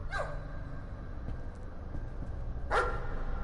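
Two barks from a dog in the horror video game Layers of Fear, separated by a long pause, heard over a low humming game background.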